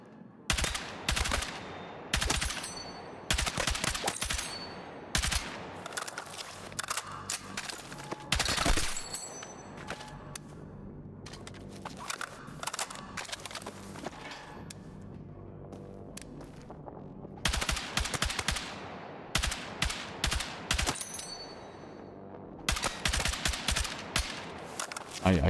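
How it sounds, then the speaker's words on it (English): Full-auto video-game gunfire arrives in repeated loud rapid bursts with quieter gaps between them, close and harsh, while a voice talks at times. "God, I hate this gun. It's got so much recoil in full auto."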